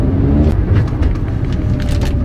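A Chevrolet Spark small car on a test drive, with a steady low engine and road rumble heard from inside the cabin, continuous and fairly loud throughout.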